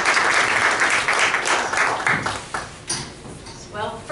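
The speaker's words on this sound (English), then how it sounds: "How about a nice round of applause for international champion auctioneer Renee Jones" Audience at a live auction applauds a champion auctioneer; a burst of clapping at moderate volume tapers off, and speech comes in near the end.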